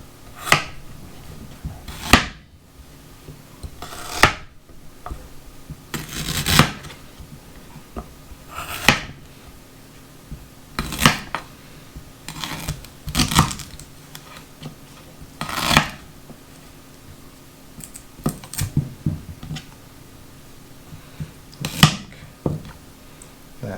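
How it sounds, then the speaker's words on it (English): A knife chops ginger root into chunks on a board, with sharp isolated cuts spaced a few seconds apart over quiet background rustling. "we're just going to cut it up into chunks that the blender can easily handle"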